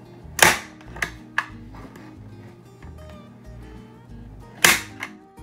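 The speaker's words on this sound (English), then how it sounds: "We're just gonna add a few of these staples here." A Craftsman staple gun drives staples into fabric on a thrift store furniture piece, giving four sharp, close snaps spaced irregularly over a quiet room background.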